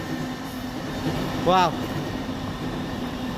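A train rushes past close by in a brief loud swell of rumble and harmonic whine, fading quickly against steady outdoor background noise, with a man's short exclamation over it.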